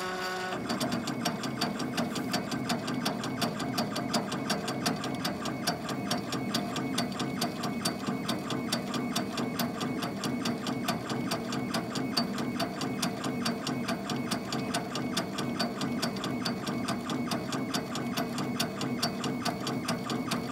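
Laser engraver working on a stethoscope at 20% power and 250 mm per second, a steady, fast mechanical chatter of moving gantry and motors that holds constant throughout, close and fairly quiet.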